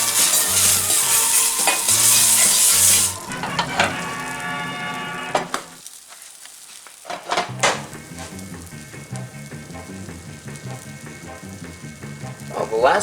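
Pancake batter frying in a Spider-Man cast iron skillet, a busy sizzle with scraping and clatter, a brief near-silent gap, then quieter crackling and tool taps.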